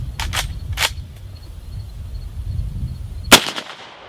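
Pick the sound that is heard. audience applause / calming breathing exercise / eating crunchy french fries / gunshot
gunshot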